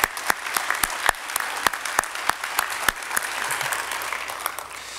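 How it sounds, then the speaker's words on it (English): An awards-ceremony audience applauds the girls basketball dream team, with steady dense clapping and a few sharper individual claps standing out, fairly close and alone without speech. "One more round of applause for the girls basketball dream team"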